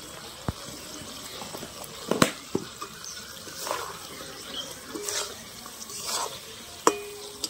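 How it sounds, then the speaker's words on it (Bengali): Raw mango pickle with spices frying in oil, a soft continuous sizzle broken by sharp stirring scrapes and clinks against the pan, close and fairly quiet with no voices. "মশলাটা দেওয়ার পরেও আচারটা কিছুক্ষণ ভেজে নিয়েছি তেলের মধ্যে"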